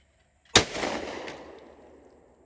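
A dove-hunting shotgun fires a single cheap Winchester Super X light-load shell, giving one loud, sharp blast that rolls off into a long fading outdoor echo.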